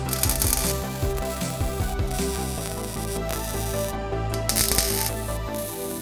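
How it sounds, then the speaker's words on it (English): Welding on a chopper motorcycle part in a workshop, with a dense, close crackling buzz in uneven bursts, brief pauses between beads, and no voices. "I'm going to go ahead and get this one welded up"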